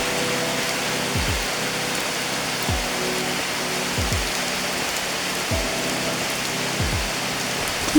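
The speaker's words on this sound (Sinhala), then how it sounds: "ඊට පස්සේ ඉතින් හොඳට වහිනවා." Heavy rain pours down in a steady, dense wash of noise, with a few dull low thumps recurring beneath it.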